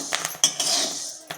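Dal being dry roasted in a pan for fenugreek laddoos, with a few sharp scrapes and clinks of a utensil against the metal over a steady dry rustle, close and fairly loud, no talking.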